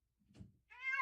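A chunky, angry house cat lets out a single loud, drawn-out meow near the end, after a brief muffled thump and rustle.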